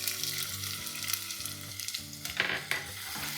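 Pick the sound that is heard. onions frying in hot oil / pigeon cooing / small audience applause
onions frying in hot oil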